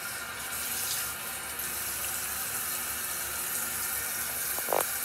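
Water runs steadily from a tap for washing the face, a continuous hissing splash that keeps an even level throughout with a brief louder splash near the end.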